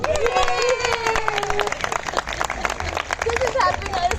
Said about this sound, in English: please big a round of applause for the winners, everyone